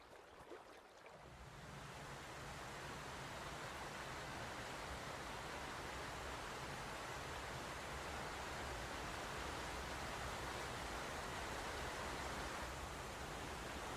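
A powerful waterfall on the Yellowstone River roars from close range as a dense, steady, broadband rush of falling water that rises within the first two seconds and then holds loud and unbroken.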